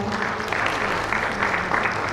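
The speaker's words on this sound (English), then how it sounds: "And can we have a huge round of applause for Sreekanth?" A conference audience at the India Banking Summit & Awards 2024 applauds steadily as a panelist is called to the stage, producing a sustained, even roar of clapping in a large hall.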